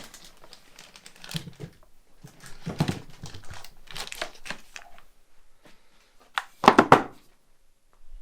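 A plastic waste bag crinkles and rustles in bursts as it is fitted into a Kranzle Ventos 32 wet and dry vacuum, with a louder crackling flurry near the end.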